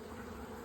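A brief, soft, steady drone of honeybees buzzing around an open beehive nuc.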